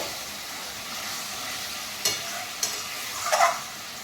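Lote fish masala is gently stirred in a pan over a soft, steady sizzle, with a few light scraping clicks of the spoon near the end.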